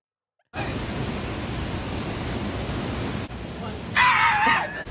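A woman lets out a loud, sustained, blood-curdling scream that rises sharply near the end, harsh and close over a rushing noisy background.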